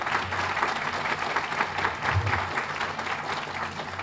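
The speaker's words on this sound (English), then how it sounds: "So let's give us a round of applause for that" An audience claps steadily at a school ribbon-cutting ceremony, a modest, continuous patter of applause with a faint low murmur underneath.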